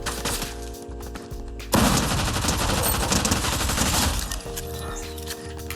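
Bursts of gunfire in a dense, continuous volley of rapid shots, loud and close, surging in the middle section and then easing back down.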